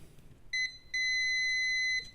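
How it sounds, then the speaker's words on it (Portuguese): A multimeter in continuity mode beeps on a shorted diode on an electronic circuit board: a short chirp, then a steady high-pitched tone lasting about a second, loud and close, with no talking. "vou colocar na escala do bip, para ver se ele continua bipando"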